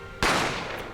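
A single sharp gunshot from The Great Ace Attorney Chronicles cracks out after a brief quiet, then its loud echoing tail fades slowly over the next moment.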